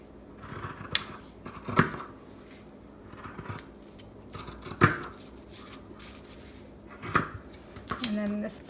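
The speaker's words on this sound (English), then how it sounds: "And we'll just cut that out real fast." Scissors snip through fabric while a romper is cut out, several sharp separate crunching cuts at an irregular rhythm, close and clear over low room noise.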